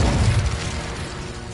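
Incendio spell cast in Hogwarts Legacy: a loud, dense burst of fiery whoosh and rumble that starts strong and gradually fades, alone without speech.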